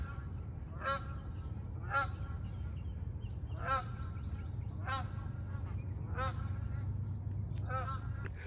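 Canada geese honk repeatedly in a roughly regular rhythm, a series of nasal calls about a second apart, heard moderately near over a steady low rumble of running water.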